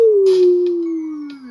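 A person imitates a dog's howl with one long, loud, steady vocal tone that slowly falls in pitch and fades out at the end.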